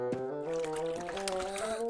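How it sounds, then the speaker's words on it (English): Raspberry ice mix poured into lolly moulds in a cartoon, a soft liquid trickle under a bright musical backing, steady and close for a couple of seconds. "Next, we pour the raspberry ice mix into these moulds."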